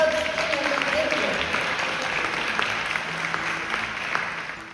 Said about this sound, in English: So please give me a little applause for yourself and the folks in the video.